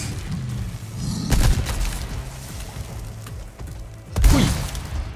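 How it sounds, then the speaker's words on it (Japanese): Explosions in the video game Resident Evil 4 Separate Ways: two heavy booming blasts about three seconds apart over a dense bed of game noise and low rumble. "とりあえず爆発"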